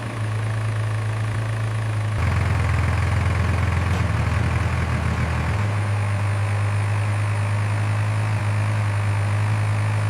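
A steady low tractor engine rumble drones throughout, growing heavier and rougher for a few seconds in the middle as it approaches before settling back to an even idle.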